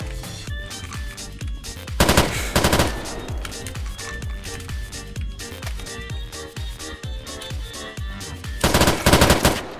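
A Vityaz submachine gun fires in a video game, with rapid, loud bursts of gunfire over a tonal game soundtrack, heaviest near the start and again at the end.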